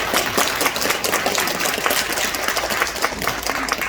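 Dense, steady applause from an audience at a political campaign announcement in Sejong, filling the whole stretch with continuous clapping and no talk.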